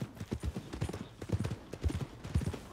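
Horse hooves clip-clop in a steady walking rhythm in Red Dead Redemption 2, close and fairly clear, with a faint voice nearby.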